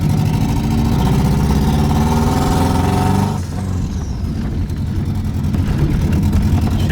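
A turbocharged AWD JDM rally car runs and drives, its engine a loud, close rumble with a steady harmonic drone that shifts pitch midway as it changes load.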